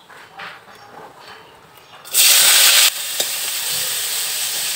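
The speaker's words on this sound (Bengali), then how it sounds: "এখন কুশি ভাজি করব।" Kushi frying in a pan, quiet at first, then a loud burst of hissing sizzle as food hits the hot oil, settling into a steady strong sizzle.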